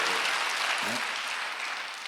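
Church congregation applauding during a Sunday worship service, a steady broadband wash of clapping that fades slightly toward the end.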